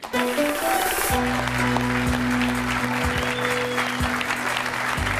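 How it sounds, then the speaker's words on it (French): Studio audience applause on a French television set as a new guest is introduced, dense steady clapping over a sustained musical chord and low beats, loud and continuous. "Il s'agit de Nicolas Angèle, que je vous demande d'applaudir."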